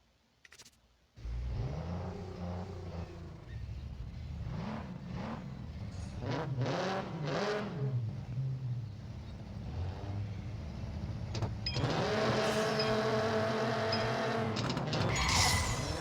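A race car engine in the Need for Speed No Limits game revs and climbs through gears at launch, loud and close, with rising and falling pitch sweeps and a harder acceleration near the end.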